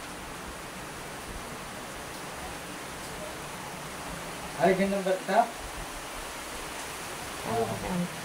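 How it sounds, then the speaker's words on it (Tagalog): Steady hiss of rain fills the background, with a person speaking briefly over it. "Umuulan."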